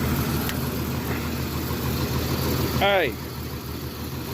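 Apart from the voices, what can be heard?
Jeep Comanche engine running and misfiring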